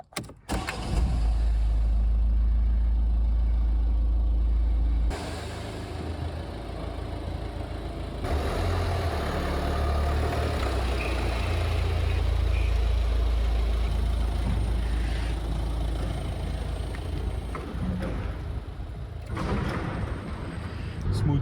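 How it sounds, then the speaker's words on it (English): A Volvo V50 engine cranks and catches, then settles into a steady, loud idle that runs on continuously, with some changes in tone partway through. "Time to start the engine."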